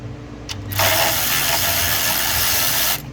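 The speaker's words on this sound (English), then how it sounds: "I'm using an extension, and I'm using my electric ratchet just to make life a lot easier for everybody. And we'll loosen up all these bolts." Electric ratchet on an extension loosening bolts during an oil pressure switch replacement on a 2013 Dodge Durango 3.6L V6, a loud, close, continuous buzzing whir lasting about two seconds before it stops abruptly.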